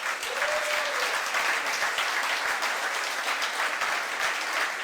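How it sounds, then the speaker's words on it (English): A crowd at a European floral awards ceremony gives warm, sustained applause, an even, continuous patter of many hands at fairly strong level, with a brief voice near the start. "Give her again a warm applause."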